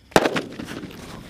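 Blood bomb firecracker set off during Diwali fireworks testing: a single sharp loud bang close by, followed by a short crackling rumble and echo that fades within a second.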